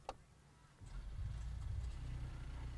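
A 2020 Mercedes-AMG GT 53 4Matic+ four-door coupe with EQ Boost mild hybrid starts up quietly after a faint click, settling into a low, smooth, steady hum close by.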